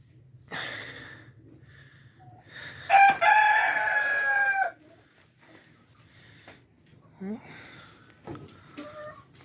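Chickens roaming a greenhouse yard give a loud, drawn-out crow-like call in the middle, with scattered clucks and a few other faint sounds before and after.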